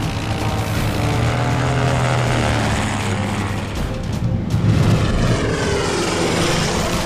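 A Fokker DR-1 triplane's piston engine drones loud and steady in flight, a continuous rough propeller hum with a slight swell midway, no voices.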